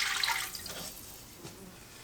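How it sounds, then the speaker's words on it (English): Beef broth poured into a hot pan to deglaze it: a faint, soft liquid splash and trickle that fades after the first moment, with no talking. "To our pan, we're going to add 2 cups of beef broth or beef stock."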